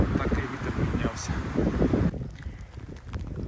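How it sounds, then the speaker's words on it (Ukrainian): Blustery wind rushes and buffets the microphone in a broad low roar in the Carpathian mountains before autumn rain, strongest in the first two seconds, then easing slightly while still gusting. "От такий вітер піднявся."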